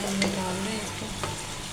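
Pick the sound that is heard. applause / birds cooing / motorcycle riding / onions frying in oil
onions frying in oil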